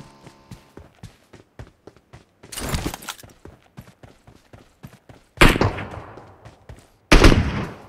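Gunfire from a ranged shooter video game: scattered single shots in a quick irregular rhythm, broken by three loud, longer bursts of heavy fire.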